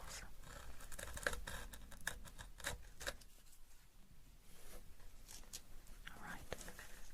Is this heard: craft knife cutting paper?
yes